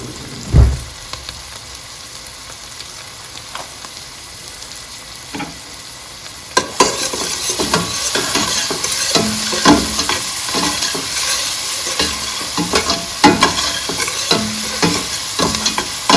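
Garlic sizzles in a hot frying pan for an oxtail dish, a soft hiss that swells into busy crackling frying with repeated scraping stirs, close and steady, with no talking.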